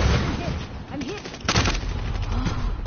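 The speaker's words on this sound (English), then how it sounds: "He sniped me from afar." Gunfire in a PS4 video game sounds as a loud burst of rapid shots with a sharp crack near the middle, heard under overlapping voices talking.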